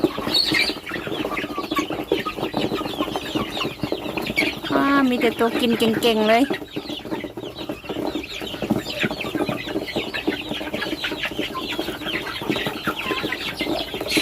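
Chickens cluck and squawk around feeding time on a small self-sufficient farm, a busy cluster of calls with a brief louder burst partway through, mixed with a person talking in a rural dialect.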